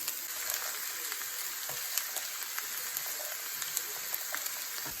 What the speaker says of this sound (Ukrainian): Перець смажимо до тої пори, поки він не стане м'яким.